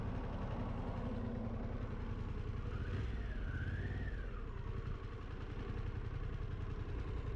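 A Harley-Davidson Pan America 1250 Special motorcycle engine rumbles low and steady while riding a highway with stoplights, fairly quiet overall, with a brief warbling tone rising and falling midway.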